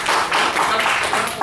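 An audience claps for a speaker at a church gathering, a dense burst of many hands in steady rhythm, loud and continuous with brief dips.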